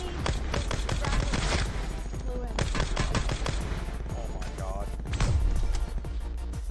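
Rapid automatic gunfire from a shooter video game, dense bursts of shots rattling almost continuously with a heavier cluster near the end, while players talk over the action.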